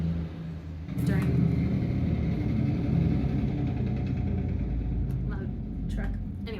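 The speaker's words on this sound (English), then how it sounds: "loud truck?" A loud truck passes outside with a deep, sustained rumble that swells suddenly and lingers, with faint voice sounds underneath.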